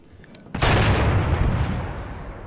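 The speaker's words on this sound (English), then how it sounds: "let's drop in some more artillery" Artillery fire in the Graviteam Tactics Mius Front war game: one loud, close shell blast bursts in suddenly, then its heavy rumble rolls on and slowly fades.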